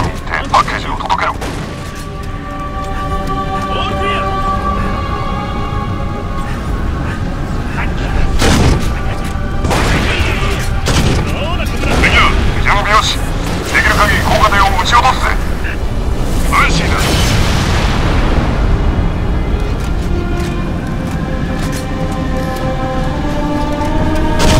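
Heavy cannon fire and rumbling explosions from an emplaced turret gun in the Halo: Reach video game, booming continuously under a dense layer of battle noise and game music, with sharp blasts recurring through the middle stretch.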